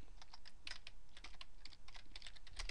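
Quiet clicking of keys on a computer keyboard in an office setting, brisk irregular keystrokes in short bursts, with no talking.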